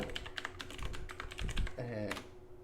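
A passphrase typed on a computer keyboard, a quick run of close, crisp key clicks ending in one firmer keystroke.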